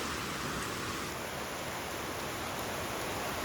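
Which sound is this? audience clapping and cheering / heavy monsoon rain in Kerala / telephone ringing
heavy monsoon rain in Kerala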